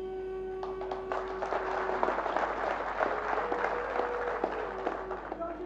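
A crowd at a political rally led by Uddhav Thackeray breaks into sustained applause, dense clapping that swells and holds, with a faint tonal hum underneath and brief bursts of cheering.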